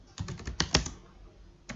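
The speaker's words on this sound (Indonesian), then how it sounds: "Saya ketikkan" Computer keyboard typing while entering authentication commands in a Cisco router console: a quick run of close key taps, a couple of firmer strokes, a pause, then one more tap near the end.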